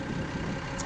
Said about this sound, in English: Got the newer T7s on the feeder wagon at the minute, which is why you can hear it really low tick over it